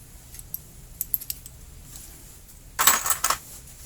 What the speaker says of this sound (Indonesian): Ini kita pasang spie-nya masuk sini.